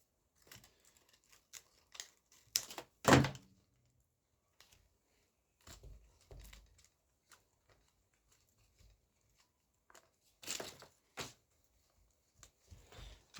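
Scissors snipping through an Outerwears pre-filter fabric for an RC engine, a few sharp close cuts and crinkles scattered among short rustles and quiet pauses, with no voices.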